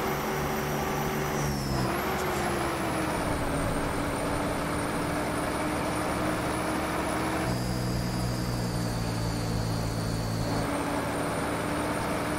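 Monobloco bus engine in an OMSI 2 simulator mod, heard from outside the vehicle: a steady, loud diesel drone idling continuously throughout, with a high whine on top that shifts slightly in pitch a few times.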